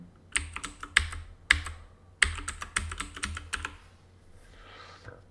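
Keys clatter on a computer keyboard as a command is typed into Rhino 3D software, close irregular bursts of clicks with short pauses between them, no talking.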